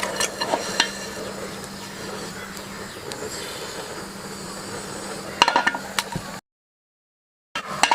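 Whole spices dry-roasting in a pan for chaat masala, with a constant soft hiss and occasional scraping stirs nearby, then a brief silent gap before the stirring resumes.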